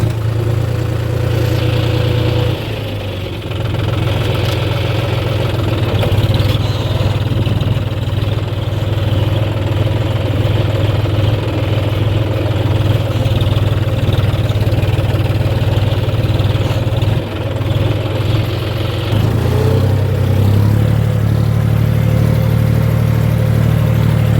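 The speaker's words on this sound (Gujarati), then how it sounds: "અહીંયા હેરો લગાવેલો છે એટલે આપણે ચાલુ રાખીએ" A tractor pulling a harrow gives a steady, loud engine drone throughout, with a low mechanical rumble that dips briefly near the start and shifts slightly toward the end; no voices.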